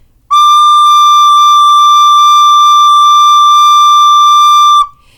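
A single steady, pure whistling note from a recorder blown with a constant stream of air, held evenly for nearly five seconds, loud and close, then stopping cleanly.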